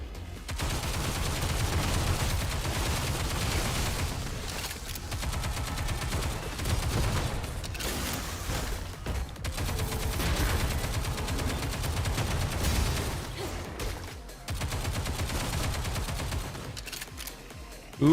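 Sustained gunfire in Stellar Blade, a dense, loud stream of shots with short breaks between volleys, heavy and close throughout.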